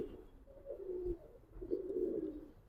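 Giribaz pigeons of the Palla line cooing in a loft, a pair of low, rolling coos rising and falling in two bursts, close and fairly soft with no talk.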